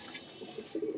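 A pigeon in a Madrasi pigeon loft gives a soft, low coo that swells near the end of a brief, quiet stretch, heard faint and alone.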